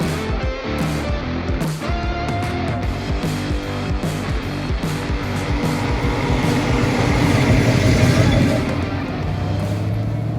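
A 1967 Mustang GT fastback with the S-code 390 V8 drives along on a test drive, its engine drone and road rumble loud, steady and close, swelling slightly toward the end with no talking.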